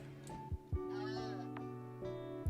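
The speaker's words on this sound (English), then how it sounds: "I like guinea pig noises. Guinea pigs are really cute with their wee wee wee" Guinea pigs squeak in the video game RimWorld: a few short, high, bleating calls rise over a steady low hum, fairly quiet.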